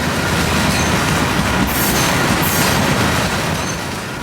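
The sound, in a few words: freight train of Omni gondola cars passing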